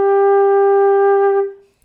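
A single low G held on a flute, a steady clean tone with clear overtones sustained for about a second and a half before quickly fading out, alone with no talk.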